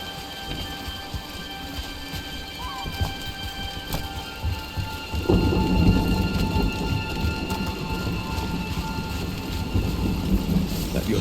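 Steady rain hisses throughout while a deep roll of thunder rumbles in about halfway and lingers under the downpour, in the video game Dragon Age: The Veilguard.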